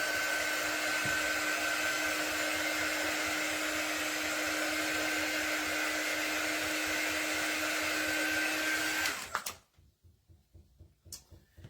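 A hair dryer blowing on a handmade craft project for a teacher gift, a loud, close, steady whir that runs for about nine seconds and then switches off, leaving quiet handling sounds.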